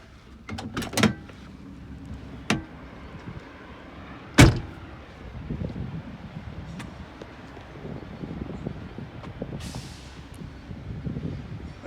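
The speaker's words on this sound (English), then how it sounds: "So I'm gonna lock this door" A few sharp metallic clicks and a loud clunk as the door of a 1973 GMC motorhome is shut and locked, followed by quiet rustling and light wind.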